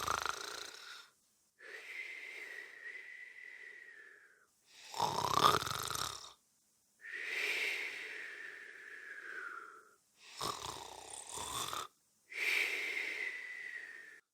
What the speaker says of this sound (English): they heard her snoring in her bed.